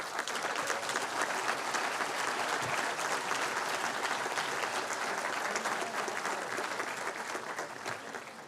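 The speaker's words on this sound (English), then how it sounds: "let's give her a round of applause" A forum audience gives a round of applause at an OECD event launch, sustained dense clapping filling the hall for the whole stretch, steady and loud before tapering slightly at the end.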